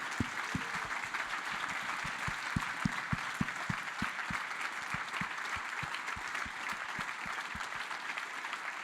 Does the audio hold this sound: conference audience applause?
yes